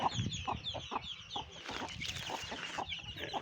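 Chickens and young chicks clucking and peeping outdoors on a cool breezy day, a steady overlapping chorus of short calls with repeated bright chick cheeps, fairly close.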